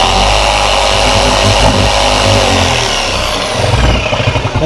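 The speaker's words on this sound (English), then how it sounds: "I gotta jump it back and forth before it cuts, and with it another piece, and the jigsaw jumped" Jigsaw cutting marine grade plywood for boat sponsons and bulkheads, a loud continuous buzzing rasp that stutters and pulses toward the end as the blade jumps.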